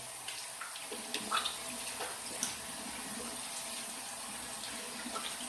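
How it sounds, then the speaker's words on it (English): A tap runs steadily into a sink while hands are rinsed under it, a close hiss with small splashes and shifts as the hands move through the stream, and no one talks. "I'm going to rinse off my hands."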